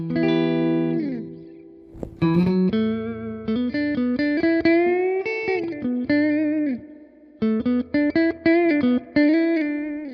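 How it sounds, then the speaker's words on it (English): Electric guitar played through a Fender Twin Reverb Tonemaster amp with the reverb turned up, ringing chords and sustained notes with a shimmering tail, loud and close, in several bursts with brief pauses. "I need to turn the reverb up on a Fender amp"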